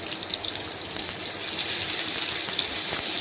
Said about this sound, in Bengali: পেঁয়াজ কুচি দিয়ে দিলাম তেলের মধ্যে